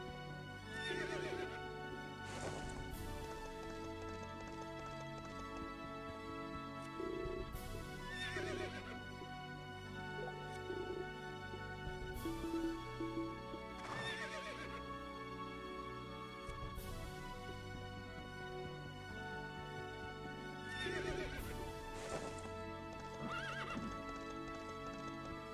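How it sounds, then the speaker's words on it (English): Horses whinny and neigh several times while hooves clip-clop beneath, set over a steady tonal musical backdrop in the video game Berwick Saga, with no voices. "Let's give them all horses. They're cheap horses"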